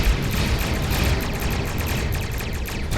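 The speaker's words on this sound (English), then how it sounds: "Oh, too close to that explosion." Explosions and weapon fire from a Star Trek Online space battle, a dense continuous rumble of blasts and crackling bursts at steady loudness throughout, with no talk.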